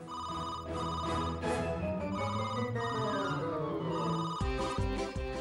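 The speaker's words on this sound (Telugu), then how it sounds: "ఎవరైనా ఫోన్ లిఫ్ట్ చేయండి." A telephone bell rings steadily over a busy musical background in a Telugu TV serial scene, with repeated ringing tones throughout.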